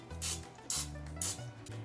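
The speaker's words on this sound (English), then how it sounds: "using some spray oil, spray the inside of your tins" Cooking oil spray hisses into cupcake tins in three short, close bursts, each a soft aerosol whoosh with a faint nozzle hum.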